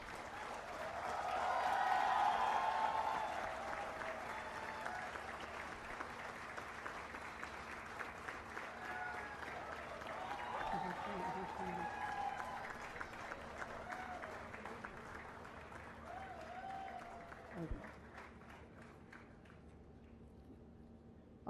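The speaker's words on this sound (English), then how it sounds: "We can all give applause." Audience applause at a university convocation ceremony, a steady broad clapping that swells early, then carries on through most of the span with a few louder claps near the end before fading.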